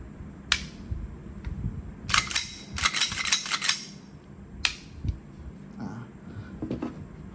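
An airsoft Glock BB pistol's slide racked and released by hand, several sharp metallic clacks with a quick cluster of rattling snaps in the middle, close up in a quiet room.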